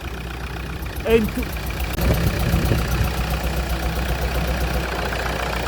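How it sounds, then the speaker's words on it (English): A Kia Sorento engine fitted into a Hyundai H-1 (i800) van idles steadily after being started, a low continuous rumble with a faint knocking pulse, close by, while someone talks over it. "I have started the engine. This is the Sorento car engine"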